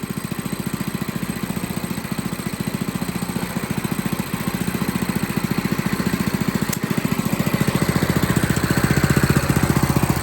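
A small engine on an abandoned go-kart runs steadily close by, its rapid pulsing putter holding an even idle and growing slightly louder toward the end, with no voices.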